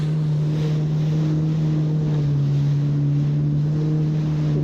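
Steady, loud engine drone of a boat heading through growing waves into open water, with constant wind buffeting and rushing water around it and no voices.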